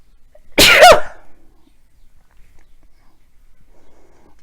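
A single sharp sneeze bursts out close and loud, lasting under half a second, then gives way to near silence.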